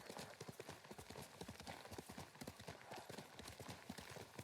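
Horse hooves clip-clopping at a steady trot in the video game Ghost of Tsushima, rhythmic and continuous, fairly close, with no talking.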